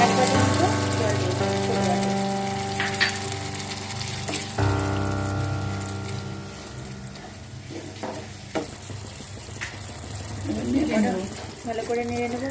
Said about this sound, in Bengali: এবার ভালোভাবে কষিয়ে নেব, প্রায় 5 মিনিট মতন লো ফ্লেমে কষিয়ে নেব